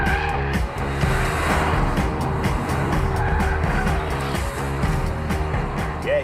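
A Volkswagen Up GTI engine growls steadily while the small car corners, a continuous close, loud engine drone with faint tire noise and no speech.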